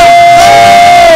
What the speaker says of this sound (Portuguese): Você que crê, aplauda bem forte, com festa,